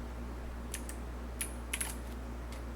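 Keys on a new computer keyboard click in short sparse bursts of typing over a steady low electrical hum, close and fairly quiet.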